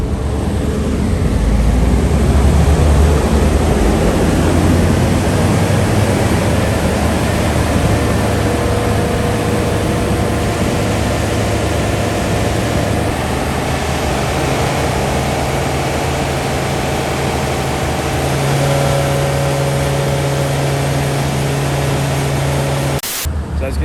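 A Honda Civic Type R BTCC race car engine revving on a dyno: a loud, sustained drone with a steady whine, holding and shifting pitch as it revs, over constant fan-like roar.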